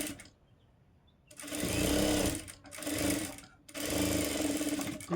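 A sewing machine stitches the side seam of a blouse. After a quiet start it runs in three loud, close bursts of whirring, with brief pauses between them.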